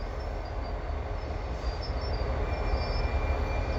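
CSX westbound freight train led by an old SD42 locomotive creeping along in winter at the Dorval ramps, a steady low rumble with rail noise holding evenly throughout, no talk.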